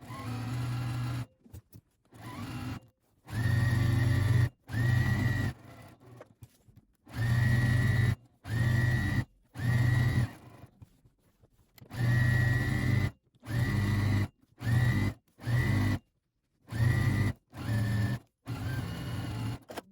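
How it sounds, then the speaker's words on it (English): Sewing machine stitching the seams of a fabric bag panel, a close, loud motor whir in repeated short bursts of one to two seconds, separated by brief pauses. "we're going to sew all of this using a 1/2 inch seam allowance"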